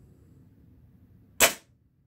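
A Benjamin Rogue NP2 SBD break-barrel airgun fitted with a moderator fires one short, sharp, muted crack against quiet room noise, with a quick fade.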